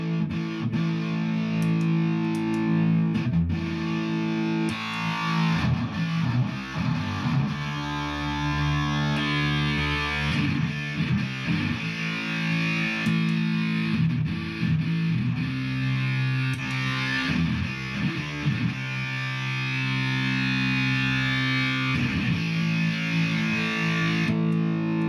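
A Les Paul SC350 electric guitar played through a Voodoo Octave fuzz pedal gives a thick, buzzing distorted tone with an octave layer, chords and riffs strummed continuously and loudly for the whole stretch, no talk.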